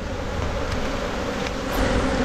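Honeybees buzzing steadily at an open beehive during hive work, a dense continuous drone close by with no voices.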